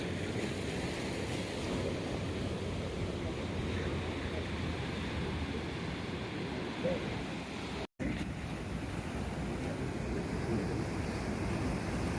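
Heavy, continuous roar of sea surf crashing forcefully near Chettuva Lighthouse, Chavakkad, with wind rumbling throughout, loud and close, briefly cut off for an instant midway.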